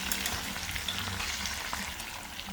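Pork pan-frying until fully cooked, a dense continuous sizzle close to the pan with faint clatter, no talking.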